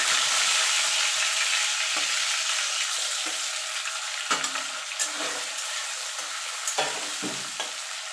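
Cooking oil with bhetki fish oil added sizzles steadily in a pan, with occasional scrapes and stirs breaking through the continuous frying hiss.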